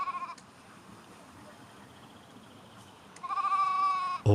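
Wild sheep in the Icelandic highlands bleat in the open, one short call at the start, then a longer wavering bleat near the end, over a soft windy outdoor background.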